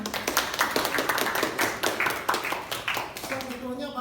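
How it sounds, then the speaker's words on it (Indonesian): An audience claps at a presentation event, a fast patter of many hands that runs through the whole clip beneath a speaker's voice. "Kasih tepuk tangannya."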